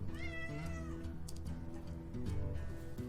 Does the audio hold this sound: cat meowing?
yes